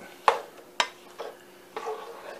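Steak taco ingredients being mixed with a utensil in a pan, four sharp scraping knocks at uneven intervals over a faint sizzle, close and clear with no talk.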